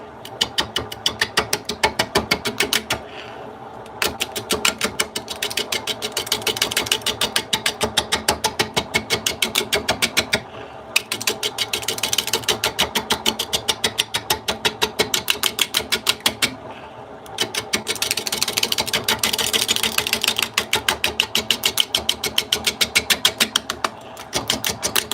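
Small sharp roughing gouge cutting a wooden hollow form on a lathe, a dense rapid chattering buzz of tool on spinning wood, continuous with a few brief pauses, loud and close.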